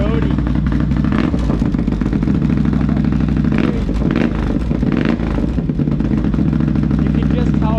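A Can-Am Outlander 650 XMR ATV fitted with an SLG exhaust runs loud and throaty up close, a steady deep engine rumble with rising revs throughout.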